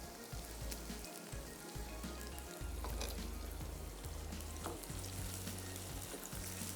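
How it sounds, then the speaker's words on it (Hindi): Onions fry in a pan for Lebanese hashweh rice, giving a steady, close crackling sizzle with faint scattered pops and light stirring clinks, no voices. "प्याज को भी हमने थोड़ा सा फ्राई करना है"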